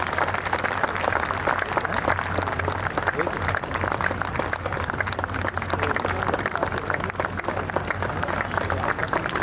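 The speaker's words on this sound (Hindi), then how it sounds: "जोरदार तालियों से हमारे सभी अतिथियों का स्वागत किया जाए।" Audience applause welcoming guests at the Shakti Swarupa Samagam 2024 gathering in Raigarh, a dense, steady wash of many hands clapping that carries on loudly for the whole stretch, with a voice faintly under it.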